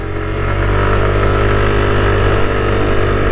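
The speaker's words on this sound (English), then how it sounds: "It even accelerates up the hill, which is pretty good considering it's only a 155cc engine" A 2023 Yamaha Aerox 155 scooter with a 155cc engine climbs a hill under an 85-kilogram rider, its engine droning loud and steady under acceleration with a constant low hum and wind rush.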